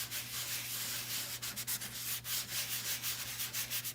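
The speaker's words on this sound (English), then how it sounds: "I will sand off that pink side" Painted wood with a pink side is sanded, giving a continuous scratchy rubbing with rhythmic strokes over a faint steady hum.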